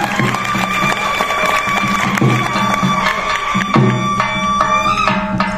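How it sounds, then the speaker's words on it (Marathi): A large crowd at a public felicitation ceremony applauds loudly and steadily, with dense clapping and some cheering throughout, close and sustained with no pause. "टाळ्या वाजल्या जोरदार"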